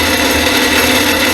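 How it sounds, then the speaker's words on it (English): A bandsaw cutting metal in a shop gives a dense, steady grinding rasp, loud and close, with no pauses and no speech over it. "I'm using my bandsaw."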